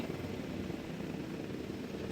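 A helicopter in Jurassic World Evolution 2 gives a steady, loud rotor drone with a dense, continuous chop throughout.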